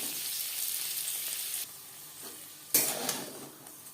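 Paneer sizzles in hot oil in a pan, a continuous hiss with a sharp burst of louder sizzling midway as pieces are turned, no voices heard.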